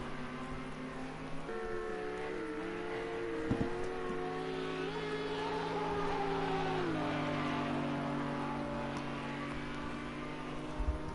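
Race car engine in a GT3 sim racing league event at Portimão, holding steady harmonic tones that bounce off the rev limiter and shift pitch, with several cars droning together in a continuous layered whine.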